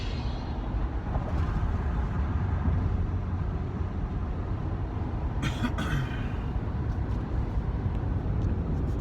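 Steady, loud road rumble from a car driving along the road, a continuous low drone with broadband tire and wind noise throughout and a brief brighter hiss midway.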